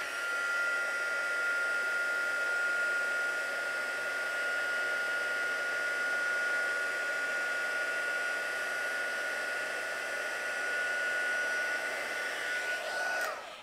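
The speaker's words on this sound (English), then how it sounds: "you can always bring in your heat gun and dry this much faster." A heat gun blows steadily at close range, drying bleach painted cardstock, a loud continuous whirring roar with a constant tonal whine that winds down in the final moment, with no talking.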